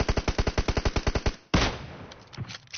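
Automatic gunfire in an online shooter game: a rapid even burst of about a dozen sharp shots, then a louder blast that trails off into scattered reports, close and loud with no talking.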